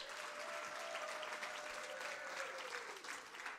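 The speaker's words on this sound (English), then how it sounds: "Can we give him a round of applause?" Steady applause from the audience at a university teaching and learning awards event, continuous and fairly faint, with some crowd noise and a few voices underneath.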